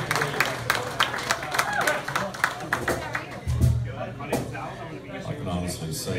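Audience at a live music show in a wings restaurant clapping and cheering, a busy patter of applause from a modest crowd with a few louder claps and a bump, while people talk over it.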